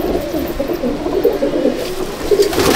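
A racing pigeon in a loft coos continuously in low, rolling throaty phrases, close and loud, with no one talking.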